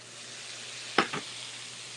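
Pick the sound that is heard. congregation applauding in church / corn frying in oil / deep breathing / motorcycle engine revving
corn frying in oil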